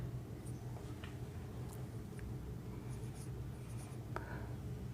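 Chalk or marker scratches and taps on a board during a maths lesson, coming as faint, scattered strokes over a steady low hum.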